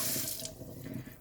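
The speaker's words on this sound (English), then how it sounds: "And the water is flowing." Water runs steadily from a tap fitted with an automatic infrared sensor device, a close, even hiss and splash into the sink with no voices.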